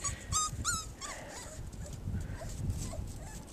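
Five-and-a-half-week-old puppies whine and whimper in short high-pitched bursts, clustered near the start and scattered after, with a steady low rumble of background noise throughout.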